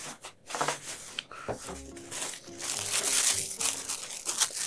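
A plastic refrigerator bag being crinkled and handled up close, irregular crackling and rustling bursts that come and go over several seconds, with no talk.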